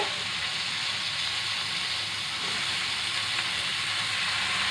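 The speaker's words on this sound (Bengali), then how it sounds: "আমি এগুলোকে সব একসঙ্গে একটু ভেজে নেব" Mixed vegetables frying together in a pan give a steady, even sizzle and hiss throughout, moderately loud and unbroken, with no voices.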